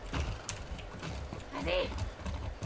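Hooves of a painted horse clip-clopping in Far Cry 6, a soft rhythmic trot under someone talking in French, with a brief whinny-like sound partway through.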